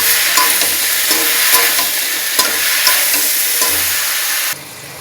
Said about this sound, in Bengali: হলদি লবণ দিয়ে পুঁই শাকটা একটু নাড়াচাড়া করে নেব